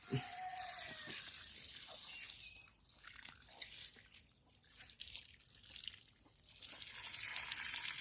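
Water sprays from a hose onto the exposed roots of a potted krachiao (Curcuma) plant, a close, hissing, splashing wash that briefly thins out in the middle before running fully again.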